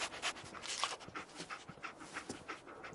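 Dog companion panting in Fallout 4, quick rhythmic breathy pants repeating close up and alone.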